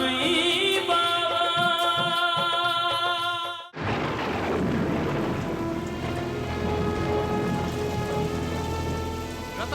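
Heavy rain pours down at night, a dense steady hiss of drops drumming on surfaces, loud and close, following a few seconds of dramatic background music that cuts off abruptly into the downpour.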